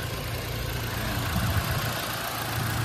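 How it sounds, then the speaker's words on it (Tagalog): A Toyota Fortuner SUV engine idles close by, a low continuous rumble with an even mechanical hum and no other sounds. "Yan, ganda ng timing ng makina."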